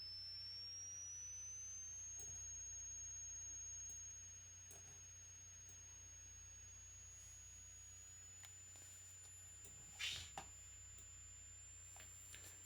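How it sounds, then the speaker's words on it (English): A very high, thin pure sine tone sweeps slowly upward toward about 10,000 hertz, holding steady and faint against a low background hum, with a brief click near the end. "as I continue to go up, we get into whistle tones and very high tones"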